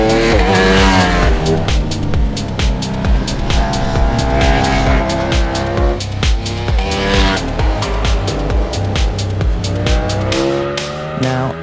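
A 2025 Ducati Streetfighter V4 S motorcycle roars loudly on a race track, its V4 engine revving hard through rapid rising and falling gear changes, close and aggressive with no talking.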